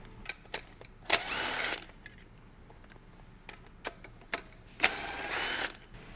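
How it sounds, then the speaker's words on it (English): Work on a GM Ecotec 2.2 engine while removing the upper timing chain guide: scattered sharp clicks of metal tools, plus two longer bursts of close, hissing, whirring tool noise a few seconds apart. "Next, you're going to remove the upper timing chain guide."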